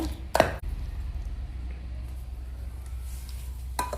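Ivy gourd pieces for a village-style chutney are pounded in a stone mortar. Two separate heavy thuds sound over a low, steady hum, one near the start and another at the end.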